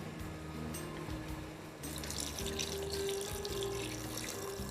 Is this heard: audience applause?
no